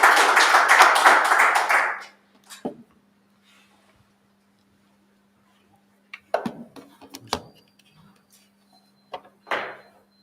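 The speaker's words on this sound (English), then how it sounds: "Nikhil, a big round of applause for him" Audience applause for a speaker at a FinTech hybrid meetup: a dense, loud burst of clapping lasting about two seconds that quickly dies away, followed by quiet with a few scattered knocks and taps.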